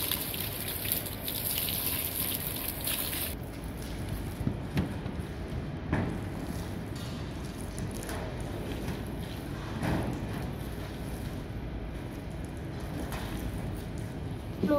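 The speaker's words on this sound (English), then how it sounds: "We directly pour water on the top of the box and the box, then check the tank for leaks." Water poured straight onto the roof of a cement fiberboard container house during a waterproof test, a steady gushing, splashing wash that runs continuously with a few louder surges.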